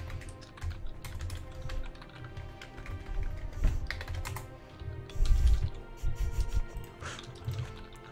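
Rapid typing on a computer keyboard during a Europa Universalis 4 game session, with clustered clicky keystrokes and a few louder key hits over faint background noise.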